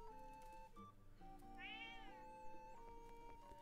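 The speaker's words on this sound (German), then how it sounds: "Machst du Miau?" A cat in the video game Zelda: Echoes of Wisdom gives one soft meow, heard faintly over steady game music.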